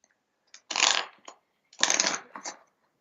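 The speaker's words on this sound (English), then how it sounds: "let me just give it a couple of shuffles." A deck of playing cards riffle-shuffled twice, close up, each a crisp flutter of about half a second followed by a short tap as the cards square up.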